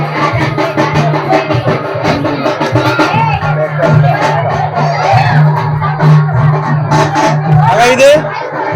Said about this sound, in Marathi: गर्दी केवढी.